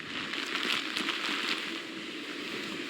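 Wind-driven rain from Tropical Storm Idalia hissing steadily on surfaces near the coast, a dense, continuous patter that swells briefly and then holds.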